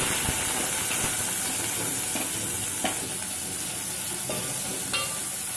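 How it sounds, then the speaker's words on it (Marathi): Onion frying in a pan with cloves, chilli and bay leaf, a dense, loud hissing sizzle running without a break, with a few soft stirring knocks, close up and with no speech. "कांदा आपण मस्त परतवून"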